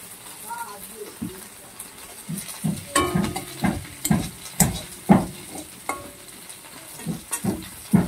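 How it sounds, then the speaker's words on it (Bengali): Nigella seeds hit a small amount of hot oil left in a pan after frying prawns, giving a sizzle with scattered stirring clinks and scrapes while a person talks over it. "সামান্য যে তেল আছে তাতে কালো জিরে দিয়ে দিচ্ছি"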